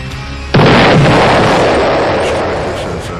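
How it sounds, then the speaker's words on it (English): Five pipe bombs under a car's driver's seat go off together in one sudden, loud blast after a brief quiet, followed by a long, roaring rumble that gradually dies away. "Five pipe bombs go off underneath the driver's seat of the car."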